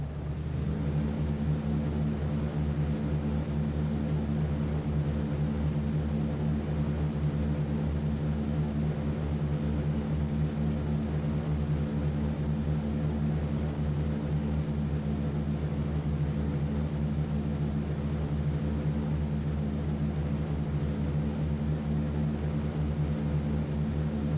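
A B-17 bomber's propeller engines drone steadily through its takeoff run in the game B-17 The Mighty 8th, a loud, continuous low rumble with a firm harmonic hum that holds level from start to finish, no voices.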